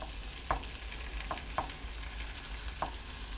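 Lentils tipped into a pan of sizzling asafoetida tarka, giving a steady frying hiss broken by a few sharp scraping stirs of the spoon, close and continuous, with no talking.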